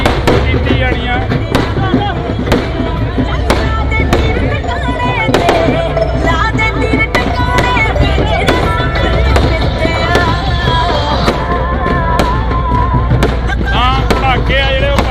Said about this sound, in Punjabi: ਪਟਾਕੇ ਆ ਜਿਹੜੇ ਉਹ ਪਾਏ ਗਏ।